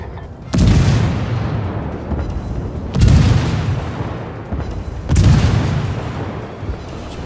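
Three heavy naval gun salvos in the World of Warships game boom out at steady intervals, each a loud sharp blast followed by a long rumbling decay.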